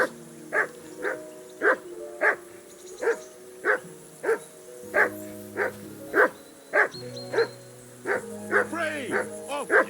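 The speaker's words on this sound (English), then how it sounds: "I assume you can hear that damn dog of yours barking." A dog barking in the video game Kingdom Come Deliverance II, a long run of regular, loud, close woofs about every half second, with low musical tones underneath.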